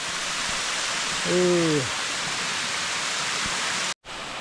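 Steady, loud roar of a 30-metre-high waterfall pouring into a pool, a broad continuous rush filling the whole clip with a brief low vocal sound partway through.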